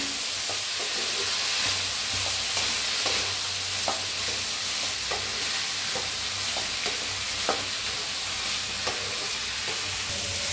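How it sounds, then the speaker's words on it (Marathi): Moth beans (matki) and potatoes dry-roasting in a pan, with a steady soft sizzle, faint scraping and occasional stirring clicks over a low background hum, continuous throughout. "मटकी भी आपण भाजून घे ह्याच्यात छान असं दोन्ही भाजूया"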